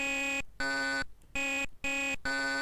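Power-adjust effect in a DOS artillery game: a harsh, buzzy electronic tone repeating in even half-second pulses with short gaps, loud and alone.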